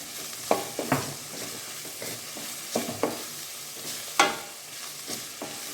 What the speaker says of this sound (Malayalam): കറിവേപ്പില ഇട്ട് കൊടുക്കണം.